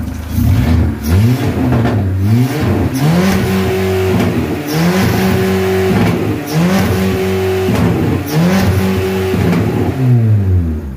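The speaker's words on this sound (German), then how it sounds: "Das, was ihr gerade gehört habt, war der Drehzahlbegrenzer" A car engine is revved hard to its rev limiter several times, each climb rising sharply and then stuttering and bouncing against the cutoff before falling back. It is loud and close, with no talk.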